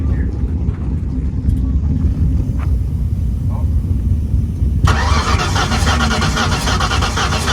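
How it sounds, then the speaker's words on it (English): An engine cranks on its starter with rhythmic puffing from the exhaust, then a loud hissing roar kicks in; people talk over it. "you can hear it poofing. That's compression coming out the exhaust."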